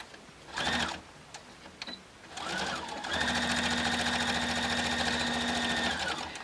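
A sewing machine stitches the boxed corners of a quilted tote bag made from a June Tailor placemat kit. A few short bursts come first, then a steady, even run of rapid stitching up close with a constant whirring hum.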